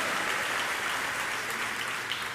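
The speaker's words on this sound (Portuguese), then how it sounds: "Pode dar uma salva de palmas ao Senhor" Audience in a church clapping together, likely as praise to God during a sermon, forming a continuous wash of clapping that stays even and fairly close throughout, without clear speech on top.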